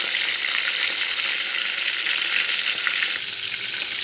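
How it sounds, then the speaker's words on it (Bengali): Chicken pieces fry lightly in hot oil, a loud, continuous crackling sizzle that stays steady and close throughout without any talking. "হালকাভাবে একটু ভেজে নেব, না হলে মাংসটা রান্নার পরে জুসি জুসি থাকে না।"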